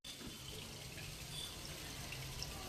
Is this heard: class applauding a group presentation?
no